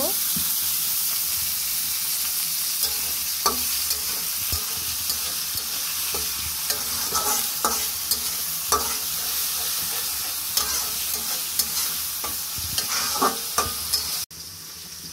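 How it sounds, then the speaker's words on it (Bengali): Onions fry in oil in a wok, a steady sizzle broken by scraping stirs and occasional clinks of a utensil against the pan, fairly close. "এবার পেঁয়াজগুলোকে ভেজে নিব।"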